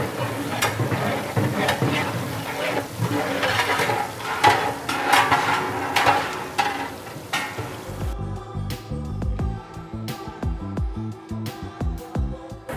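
Onions frying in a pan and being stirred for Ramadan nombu kanji, with scraping strokes over a steady sizzle for about eight seconds before music takes over.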